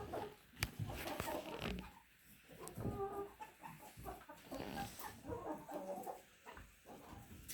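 Chickens cluck and squawk softly while pecking at caviar spread out for them, with scattered short calls and rustling, faint and close.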